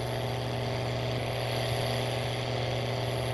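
In Farming Simulator 19, a tractor working a planter runs hard and loud, its engine a continuous low rumble with a rattling buzz layered on top, steady and close, no voices present.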